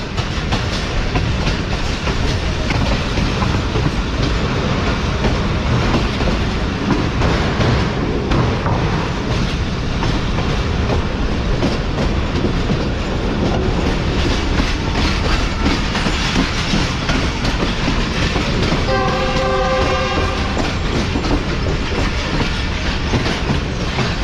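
Subak Raftar railcar train approaching Lahore Junction, a loud, steady rumble with continuous clickety-clack of wheels on rail joints throughout, and a brief horn-like tonal burst near the end.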